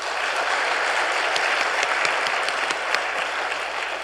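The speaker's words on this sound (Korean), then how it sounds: "다시 한 박수로 쳐줍시다." Sustained applause from a church congregation during a Sunday worship service, a dense, steady wash of many hands clapping at fairly even loudness for the whole stretch, with no voices rising above it.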